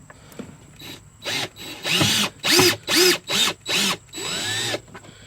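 Power drill driving screws to mount a boat battery charger, about six short whirring bursts with rising and falling motor pitch, close and loud, separated by brief pauses, no talking.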